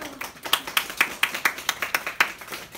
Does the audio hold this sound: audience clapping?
yes